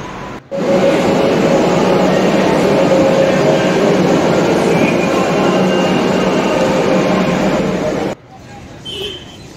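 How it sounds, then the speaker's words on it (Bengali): A loud, steady rumble of a Kolkata Metro train arriving at a station for several seconds, with a squeal near the end, then it cuts off into quieter station noise. "যে মেট্রো স্টেশনে এসেছি, মেট্রোটা আসবে।"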